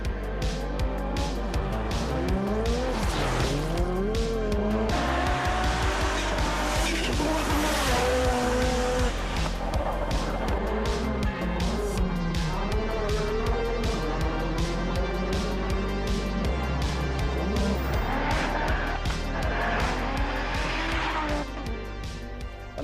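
A 1984 Ferrari 288, a twin-turbo 3-litre V8 race car, roars loudly past at Silverstone, its engine note rising and falling through sustained revs for over twenty seconds, with another engine sweep near the end.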